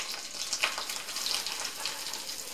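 Thin walnut-crusted trout fillets sizzling in a hot pan, a steady hissing spatter heard close and alone.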